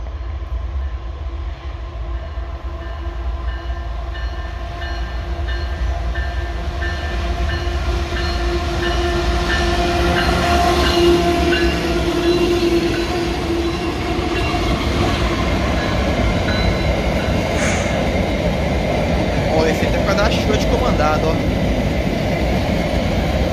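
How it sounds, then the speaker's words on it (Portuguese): Freight trains running at high speed through a tunnel approach, climbing and descending a grade, give a loud, continuous rumble with droning engine tones and wheel clatter that swells and stays close throughout. "Trens aqui acelerando forte em alta velocidade, subindo e descendo essa rampa aqui"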